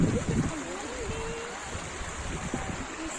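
A river flows near a teaching point in Longding, Arunachal Pradesh, making a soft, steady rushing wash throughout, with a brief voice near the start.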